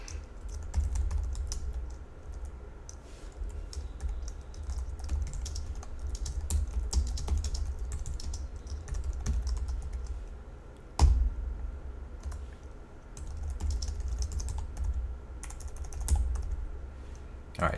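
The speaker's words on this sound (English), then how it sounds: "I want to type this code" Continuous keystrokes on a computer keyboard while code is entered, a steady close patter of clicks with brief pauses and one sharper tap partway through, with no talking.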